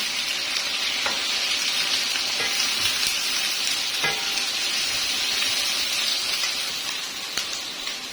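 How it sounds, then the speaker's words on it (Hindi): Onion paste frying in a pan for a chicken karahi, a loud steady close-up sizzle and crackle with occasional stirring clicks and no one talking. "तो ये जाएगा प्याज का पेस्ट। इसको मैं 1-2 मिनट फ्राई कर लूंगी।"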